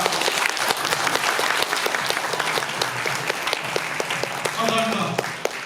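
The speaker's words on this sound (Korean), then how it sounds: "열정적으로 우리 지역을 위해서 이렇게 도 좋은 말씀 해주신 김민철 의원님께 다시 한번 큰 박수 부탁드립니다" A hall full of delegates at a Democratic Party regional convention in Pocheon-Gapyeong gives dense, sustained applause with a steady clatter of many hands that keeps going throughout.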